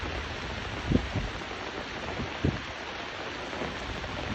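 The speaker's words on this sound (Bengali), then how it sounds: "কী পরিমাণ বৃষ্টি হচ্ছে" Steady, dense rain hiss over a vegetable garden with a ridge gourd plot fills the whole stretch, with a couple of brief louder splashes or knocks, no voices.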